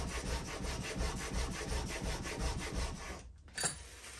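A new hand plane blade rubbed back and forth on a coarse 40 micron abrasive, giving a steady, rhythmic rasping scrape with roughly a dozen strokes close up, then a brief pause and a final stroke.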